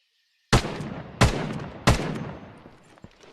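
A gun in an FPS video game fires three loud, close shots at even intervals, each with a sharp crack and a decaying echo tail.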